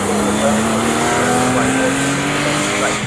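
A Nissan GT-R race car brakes into the Wilson hairpin at the Snetterton circuit during a time attack event. A close, continuous engine drone shifts steadily in pitch, with a voice running underneath.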